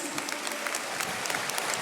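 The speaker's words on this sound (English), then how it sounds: "can we give a big round of applause to our parents?" An audience at a senior high school graduation ceremony claps for the graduates' parents, a brief burst of dense applause from a crowd at moderate distance, with a voice faintly underneath.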